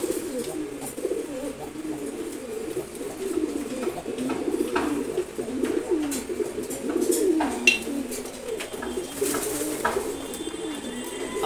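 A red chulli pigeon coos in a low, rolling rhythm, repeated throughout at close range, with faint chirps and small rustles behind.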